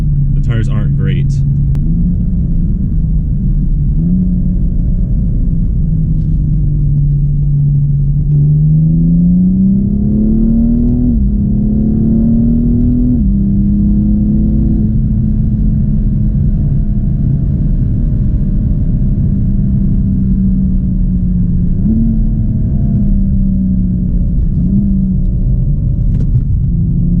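A car on skinny all-season tires is driven hard with oversteer and traction control intervening, its engine a loud, close drone that climbs and drops in pitch as it revs through gears, with a voice under the noise.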